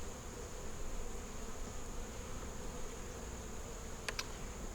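Honey bees at an open hive with exposed frames of brood, honey and nectar make a continuous close buzzing drone, and a couple of brief sharp ticks come near the end.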